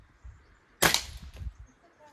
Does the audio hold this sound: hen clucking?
no